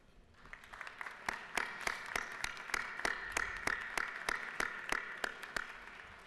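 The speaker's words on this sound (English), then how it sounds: "if you guys would join me in a round of applause for them" Scattered round of applause in the Georgia House chamber, individual claps clearly separated and fairly sparse at first, then settling into a steady, moderate patter from a modest group, heard at some distance with no talk over it.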